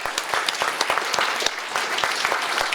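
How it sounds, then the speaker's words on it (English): Crowd clapping steadily at an outdoor BBQ fundraiser, a loud, dense burst of applause with no talking over it. "So let's give them a quick round."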